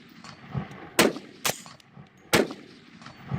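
A D3-10SD integrally suppressed 10mm carbine fires 200 grain flat nose full metal jacket ball ammunition, sharp muffled reports with a metallic clack, three distinct shots at uneven intervals, close and without talk.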